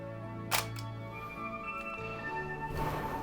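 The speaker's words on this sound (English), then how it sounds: "when you cock the shutter, the mirror will go down" Shutter and mirror mechanism of a 1955 Praktina FX 35 mm SLR camera: a sharp mechanical snap, a quick second click just after, then faint ticking and a soft clack later, all close up against a steady background hum.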